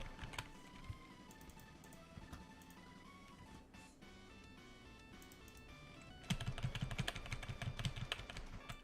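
Computer-keyboard typing in a typing game: rapid, irregular key clicks sit quietly under game music, then turn into a louder, denser burst of keystrokes near the end.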